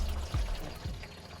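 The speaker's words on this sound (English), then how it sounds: "Can you hear the water flowing in there?" Water pouring into a 60 litre water bladder installed in a 4x4 touring setup, a low continuous gurgling flow with a couple of heavier surges, heard alone at close range.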